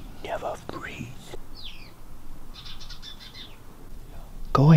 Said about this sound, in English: Ooh, look at this pretty bird.